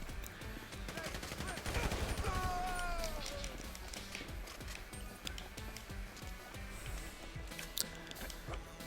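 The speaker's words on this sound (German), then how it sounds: "dort hinter der Wand schießt noch einer für" GTA 5 gunfire during a shootout: rapid volleys of shots crackle near and far over steady game noise, with a brief swell early on and scattered sharp bangs later, while someone talks intermittently.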